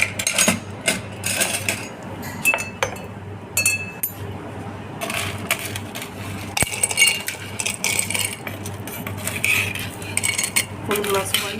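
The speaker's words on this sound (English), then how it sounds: "And full glass of ice." Ice cubes clink and clatter into a glass for ginger thyme sparkling lemonade, a busy run of close, sharp rattles and knocks, with no talk.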